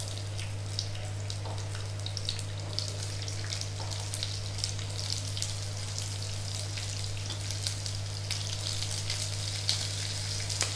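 Chopped onion frying in a pan for bhindi masala gives a steady, even sizzle that runs the whole time, with a low constant hum beneath and no talking.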